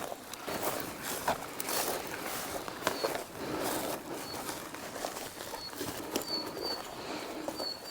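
Birds around a forest campsite where a camper van is parked, with wings fluttering and soft cooing scattered over a steady outdoor background, joined by faint footsteps and a few thin high chirps.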